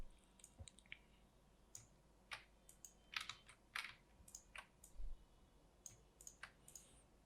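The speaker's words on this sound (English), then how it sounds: "clicking the Alt key breaks the curve" Light plastic clicks on a computer keyboard while working in Photoshop, with irregular single taps and short clusters of keystrokes, close and quiet with no speech.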